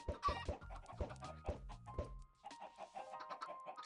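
Chickens in Minecraft give soft, quick clucks in short clusters, fairly close and quiet, with no talking over them.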